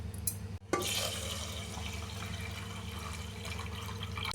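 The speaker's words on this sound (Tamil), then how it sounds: "மெஷர்மெண்ட் கப்பில்ங்க 5 கப்பு நம்ம தண்ணி ஊற்றிக்கலாம்." Water poured into a pot of rice and moong dal splashes and gurgles close up, starting after a brief pause and flowing in a steady, continuous stream without talking.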